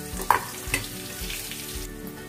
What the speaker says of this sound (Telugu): ఇప్పుడు దీనిలో ఈ మ్యారినేట్ చేసుకున్న పన్నీర్ ముక్కల్ని వేసి కాస్త ఫ్రై చేసుకుందాం